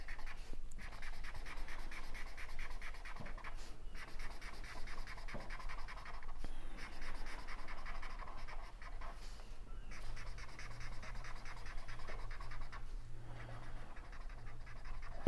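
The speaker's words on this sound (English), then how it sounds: "So we'll color that pool of water purple." A crayon or marker colours in a pool of water on paper in a children's drawing lesson, producing a continuous soft scratchy rubbing of quick back-and-forth strokes, close and quiet, with no talking.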